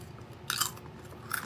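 Two brief crunchy bites of chips made from chicken breast, egg whites and chicken bone broth, chewed close to the microphone, quiet and with no talking.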